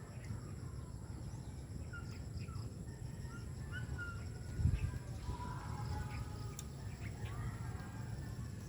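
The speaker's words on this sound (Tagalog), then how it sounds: "Ang daming ng ibon." In a countryside fig tree, several birds call at a moderate distance over steady outdoor ambience, with soft coos and scattered chirps and one brief thump partway through.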